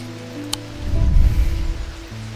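Rain falling in the game Strange Antiquities, a steady soft wash of drops swelling in the middle and easing off, heard alone under low ambient tones.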